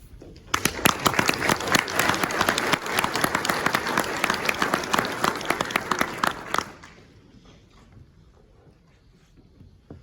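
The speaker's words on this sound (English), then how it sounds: "Let's give them a big round of applause." A fire and life safety education conference audience gives a loud, full round of applause for Captain Parr and the nominees, lasting about six seconds before cutting off abruptly into quiet room tone.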